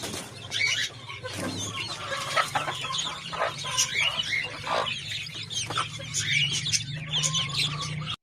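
Large hens in a rooftop coop in a garden cluck busily at close range, with overlapping calls, short squawks and some wing rustling throughout.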